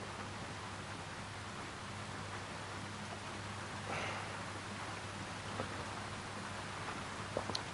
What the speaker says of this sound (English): What you can hear sounds like the rain noises over the forests and nature.